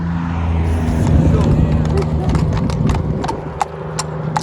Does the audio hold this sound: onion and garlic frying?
no